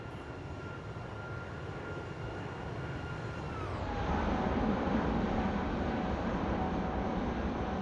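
Simulated airliner engines roar steadily in X-Plane 11, a broad constant rumble that swells louder partway through as the whine shifts lower, like thrust building for takeoff, with no voices.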